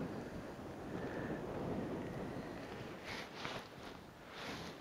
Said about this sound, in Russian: Ветер еще сильнее поднялся.